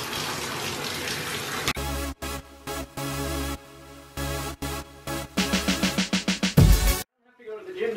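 Water runs from a tap while a large St. Bernard is bathed, a steady gushing stream broken by short gaps and splashes, with a voice talking over it.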